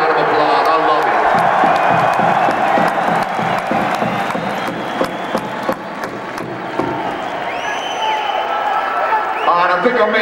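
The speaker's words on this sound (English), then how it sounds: "give yourself a round of applause" A concert crowd at a Pantera show in Philadelphia's First Union Center claps and cheers loudly and steadily, with whoops and yells rising through the applause.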